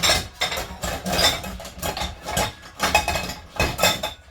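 A metal frying pan and saucepan clank and scrape in quick irregular bursts, set down and shifted close by with no talking.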